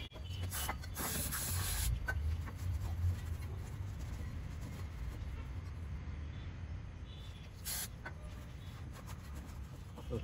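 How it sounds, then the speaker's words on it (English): Brake cleaner sprayed onto a brake caliper piston during a front brake pad and disc job on a Polo 6R, heard as bursts of close aerosol hiss with quieter rubbing and handling noises between them. "Just clean it a bit with the brake cleaner."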